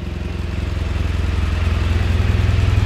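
A 2017 BMW R1200GS TE motorcycle engine runs close by with a steady, rapid thumping idle that gradually grows louder and fuller. No one speaks.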